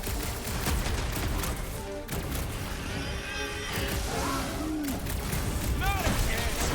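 Gunfire in Marvel's Guardians of the Galaxy mixes with game chatter and whooshing effects, a busy layered battle din with sci-fi chirps and scattered bursts.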